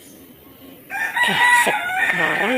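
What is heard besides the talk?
chicken crowing and clucking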